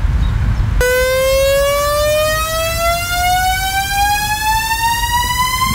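A synthesized FX riser: a bright, harmonic-rich tone starting after a brief pause and gliding steadily upward in pitch over several seconds, loud and continuous with a noise layer beneath, no voices.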